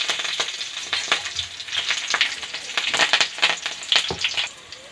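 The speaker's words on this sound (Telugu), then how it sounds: "ఇవి కొద్దిగా ఫ్రై అవ్వాలి." Curry leaves, garlic, dried red chillies, urad dal, chana dal and mustard seeds sizzle and crackle in hot oil, a steady close frying hiss with sharp pops and occasional stirring.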